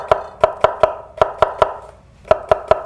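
A knife slices a halved cucumber diagonally on a cutting board: crisp, evenly spaced chops in quick bursts of three or four, close and clear with short pauses between runs.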